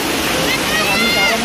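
Rani Dahra waterfall in Chhattisgarh gives a loud, continuous broadband roar of rushing, splashing water close by.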